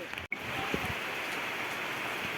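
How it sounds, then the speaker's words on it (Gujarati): Soft, steady hiss of rain falling on surfaces on Girnar mountain, fairly faint, with a brief click near the start and no voices. "એટલે વરસાદ ચાલુ થઈ ગયો હોય"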